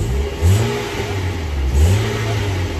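Engine of a 2009 Maruti Suzuki SX4 with a slight rattle, running close by and revved twice in short blips that rise and fall over a steady idle hum.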